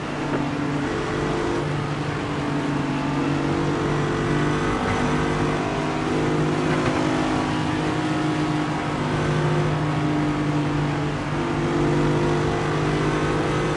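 Race cars circling an oval at Daytona in a racing video game league's Daytona 500, giving a loud, continuous layered engine drone with steady pitch throughout and no gaps.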